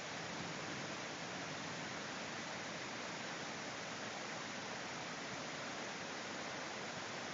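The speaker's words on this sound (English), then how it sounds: "The power of the water surging." Powerful water surging over Idaho Falls in a steady, loud broadband roar that stays unbroken and close throughout, with no voices heard.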